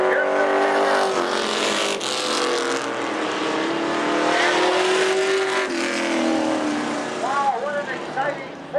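Modified division race cars racing on an oval track at a Thursday night event, engines roaring loudly and steadily with pitch rising and falling as cars pass, under an announcer's voice.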